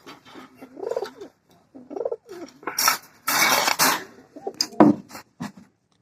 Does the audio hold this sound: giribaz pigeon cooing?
yes